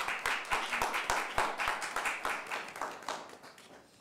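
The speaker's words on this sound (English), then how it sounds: "Let's give her a round of applause" Small community gathering applauding at an announcement event, a modest group of people clapping with distinct individual claps audible in an uneven rhythm, close and steady throughout.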